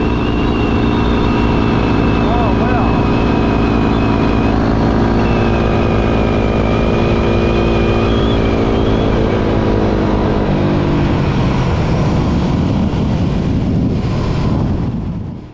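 A Yamaha WR dirt bike riding through the Australian outback, its engine droning loud and close with a steady rising and falling pitch and heavy wind rush, fading out at the end.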